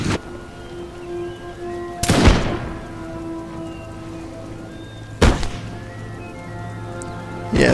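Musket volleys in Napoleon: Total War, two loud rippling bursts of fire several seconds apart, rolling like distant thunder over a constant rain-like battlefield hiss.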